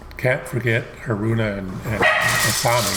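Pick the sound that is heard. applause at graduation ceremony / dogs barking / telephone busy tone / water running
dogs barking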